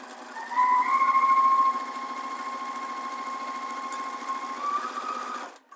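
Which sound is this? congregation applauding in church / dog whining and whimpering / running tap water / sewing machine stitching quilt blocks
sewing machine stitching quilt blocks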